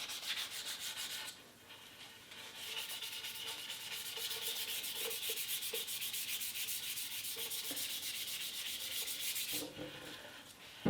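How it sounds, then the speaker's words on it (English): Paint on a guitar body being dry-sanded by hand with 600 grit sandpaper, a steady close scratchy rubbing that runs almost the whole time and dips briefly near the start and the end. "I'm just using 600 grit to quickly go over a little bit."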